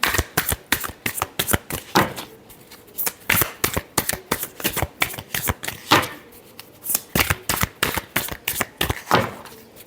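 Tarot cards being shuffled in repeated quick riffling bursts, crisp and close, with short pauses between runs and no talk.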